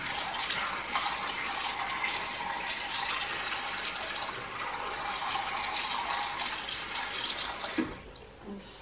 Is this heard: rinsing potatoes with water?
yes